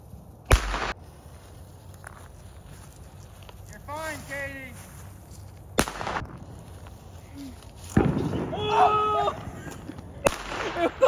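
Small firecrackers pop outdoors, several sharp loud bangs spaced a few seconds apart, with voices in between.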